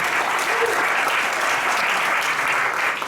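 Dense, steady audience applause fills the whole stretch at a business presentation for a travel club, loud and close with no gaps.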